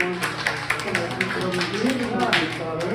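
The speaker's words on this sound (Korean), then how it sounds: "박수!" Children in a Sunday school class clapping in a quick burst of light, uneven claps, mixed with excited young voices talking over them.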